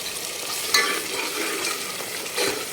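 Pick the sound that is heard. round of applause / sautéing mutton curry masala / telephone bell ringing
sautéing mutton curry masala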